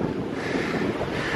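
Storm wind buffeting the microphone outdoors, a continuous rough low rumble with steady gusting noise and no voices.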